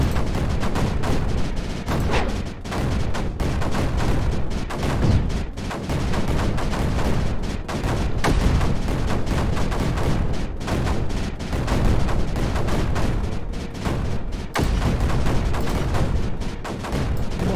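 Rapid, dense gunfire from the turrets in the Creeper World 4 strategy game, a loud and continuous barrage of overlapping shots and booms that runs with few gaps, with no talking.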